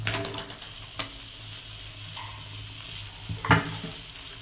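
Smashed jengkol beans stirred in a hot pan, giving a steady close sizzle of frying with scraping and clinking of the spatula and one sharper knock near the end, with no talking.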